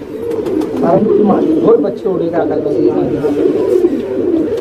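A pair of desi pigeons, male and female, coo steadily up close in soft rolling phrases, with no talk over them.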